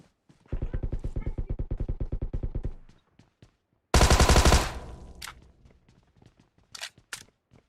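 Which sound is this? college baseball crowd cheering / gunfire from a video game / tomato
gunfire from a video game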